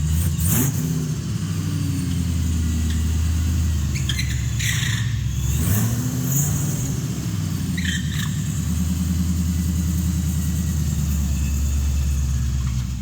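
A Cobra drag car engine in a driving game idles with a loud, steady low rumble that surges briefly, alongside a constant hiss like rain.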